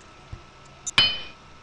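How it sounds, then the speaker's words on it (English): A PowerPoint animation's hammer sound effect: one sharp metallic clink with a short ringing tail, preceded by a couple of faint small taps, all quiet and alone. "Hammer, how does it seem? You can hear it once."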